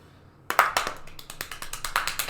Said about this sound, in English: You should do your fast clapping thing